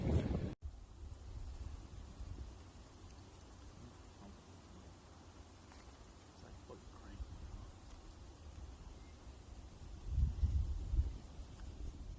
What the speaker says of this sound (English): Little windy, but hey, it's the mountains.